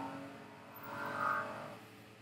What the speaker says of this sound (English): You might hear the sound of traffic going by